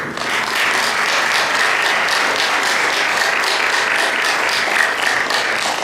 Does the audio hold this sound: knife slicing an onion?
no